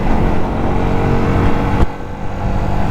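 Yamaha YZF R125 motorcycle engine running steadily while riding on a winter ride, a loud continuous drone with wind rush and a brief dip partway through.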